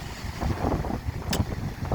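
Evening sea breeze on a coast, steady wind buffeting the microphone over a broadband rush with faint surf beneath, one brief higher gust near the middle, no talk.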